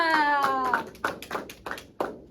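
A handful of sharp claps in an uneven rhythm, with schoolchildren's voices chanting along between them in a classroom.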